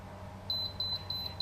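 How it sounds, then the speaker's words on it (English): An invisible dog fence transmitter gives a short series of faint, high, evenly spaced electronic beeps over a low background hum. "I'm going to turn this down until it starts to beep"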